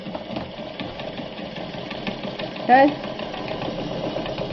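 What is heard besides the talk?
Japanese Free Westinghouse sewing machine sewing fabric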